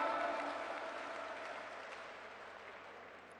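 At a political party's national conference of elected representatives, the hall claps loudly for visiting delegates, a thick burst of applause that starts strong and slowly tapers off.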